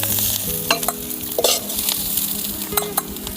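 Onion masala frying in a pan for an eggplant curry, stirred with sharp scraping strokes over a steady close sizzle, with no talking.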